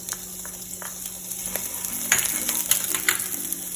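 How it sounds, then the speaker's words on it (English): A soft, steady sizzle of onions frying in a pan, with light crackles and occasional scraping from stirring. "back to our frying pan, we're going to saute our onions"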